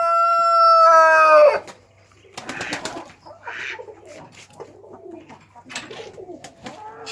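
A rooster crows loud and close in a backyard poultry coop with several roosters, hens and ducks; the long crow fills the first second and a half, followed by softer clucking and scattered bird calls.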